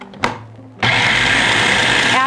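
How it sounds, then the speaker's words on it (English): A blender purees cooked pumpkin for pie filling, starting with a loud, steady whir after a few faint knocks and running continuously at close range to the end. "Then you're going to blend it until it's smooth."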